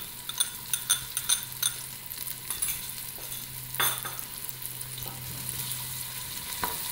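Finely chopped onions frying in a pan for fish head soup, with a steady sizzle and repeated scraping stir strokes and light utensil clinks, close and alone.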